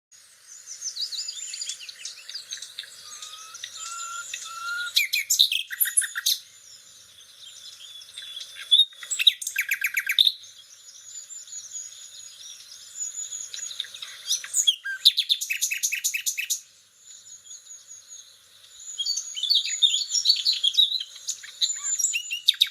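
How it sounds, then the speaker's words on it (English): A nightingale sings in bright, varied phrases of chirps, trills and rapid repeated notes, loud and close, with short pauses between bursts and no voices. "I am going to show to you how a nightingale sings."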